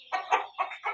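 A champion Aseel rooster gives four short, close clucking calls in a quick uneven series, clear against a quiet background.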